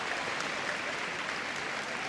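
A large arena crowd at the Crufts dog show applauds and cheers for a Whippet in the Hound Group judging, a dense, steady roar of clapping that stays loud and even throughout.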